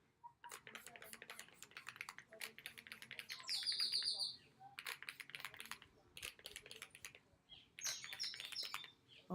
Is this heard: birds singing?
yes